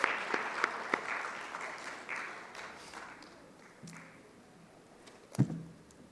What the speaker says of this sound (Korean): 다시 한번 큰 박수 드립시다